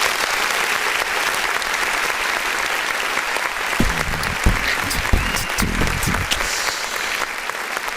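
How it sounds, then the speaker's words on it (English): An audience claps for a music producer on an independent-artist review show, with steady applause filling the whole stretch and a few sharper claps standing out. "Let's give one more clap for the producer first."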